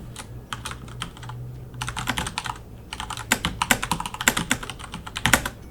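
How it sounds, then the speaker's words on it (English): Rapid clacking of a loud mechanical keyboard, keys struck in quick irregular bursts that grow busier and louder toward the end, close to the mic over a low steady hum. "Please disregard my mechanical keyboard that is way too bloody loud for existence"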